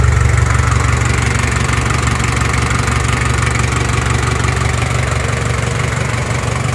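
Close, loud, even idle of a four-cylinder diesel engine on a Shibaura 4000 tractor, a rhythmic low throb that holds steady throughout with no voices.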